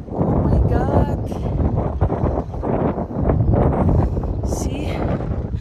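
Strong desert wind in Qatar buffets a microphone at close range, a steady loud rumble with gusts across the whole stretch, while a voice comes through faintly underneath.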